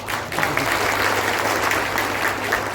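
Audience applause at Prashant Kishor's address to Bihar teachers in Marhaura block, Saran: a steady, dense wash of clapping from a crowd that holds evenly throughout, with no voices over it.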